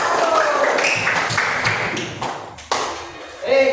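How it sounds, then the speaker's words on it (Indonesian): Brief applause in a classroom for the teacher, a few seconds of scattered clapping and taps mixed with children's voices and some talk. "beri tepuk tangan untuk Bapak"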